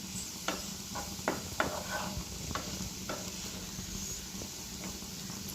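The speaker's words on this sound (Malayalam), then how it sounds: "ഇളക്കി കൊടുക്കാം" A potato and beans masala is stirred in a pan over a soft constant sizzle, with a spatula scraping and tapping the pan in irregular close strokes.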